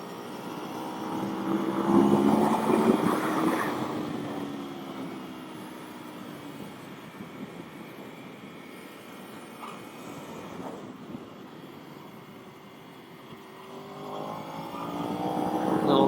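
A 2013 Aprilia Tuono V4 motorcycle ridden on a race track, its engine note rising and falling as it accelerates, eases off through a fast corner and climbs again, heard close and fairly loud throughout.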